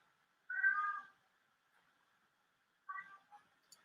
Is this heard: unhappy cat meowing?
yes